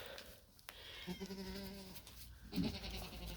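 Goats bleat nearby, two distinct wavering calls a second apart over a faint background.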